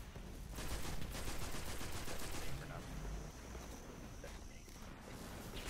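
Assault rifle fire in Destiny, rapid bursts of shots crackling loudly for the first few seconds, then thinning into scattered gunfire and game noise, with a player talking over it.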